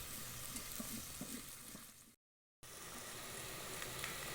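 Onions fry on medium-low heat in a pan, giving a steady, faint sizzle with light rhythmic stirring scrapes early on, briefly cutting to silence before the quiet frying resumes, with no talk.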